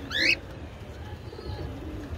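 Cockatiel birds let out one short, bright chirping call at the start, then only quiet background remains.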